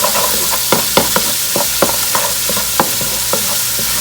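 Tomato paste cooking down in conch cooking liquid, a steady loud sizzle with a bubbling hiss throughout, broken by regular sharp taps and scrapes of a utensil stirring the pan.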